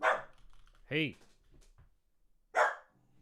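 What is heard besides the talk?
dog Sherm barking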